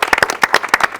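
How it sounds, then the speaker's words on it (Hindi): Audience clapping after a call for loud applause during a talk show conversation with a singer, a short burst of fairly loud, uneven claps from a small crowd, heard alone. "एक बार जोरदार तालियां हो जाए।"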